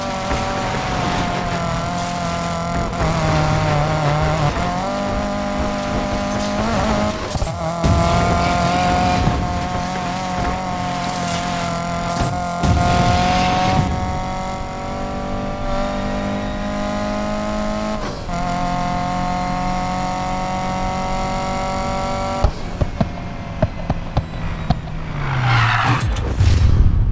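A BMW M3 Evolution 2 E30 races in Need for Speed Payback, its engine revving loudly and continuously through repeated gear shifts, with tire squeal and skidding near the end.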